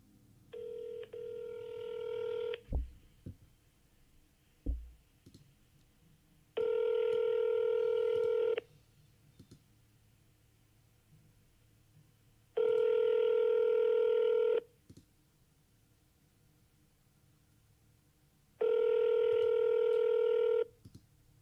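Telephone keypad tones sound in four separate bursts, each about two seconds long and evenly spaced, with quiet gaps between them. Two brief low thumps come early in the clip, and no voice is heard.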